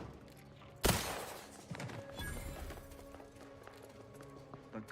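Gunfire in the video game The Outer Worlds 2, heard as a single sharp loud shot early on followed by scattered softer impacts and clatter over a busy game background.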